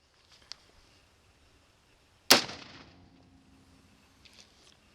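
A single sharp, loud rifle shot firing a 34 grain Dogtown varmint bullet cracks out near the microphone and decays into a short echoing tail, set in otherwise quiet outdoor surroundings with a few faint clicks before and after.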